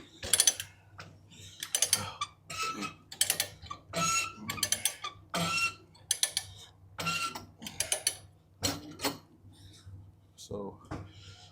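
Ratchet strap being cranked tight over heavy aluminum coils on a flatbed trailer, a series of sharp metallic clicks and clanks in irregular bursts, close and moderately loud.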